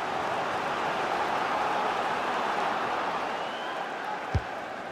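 Stadium crowd noise in a FIFA 22 Premier League match between Liverpool and Manchester United, a broad, steady roar of supporters that swells slightly and holds throughout, with one brief knock near the end.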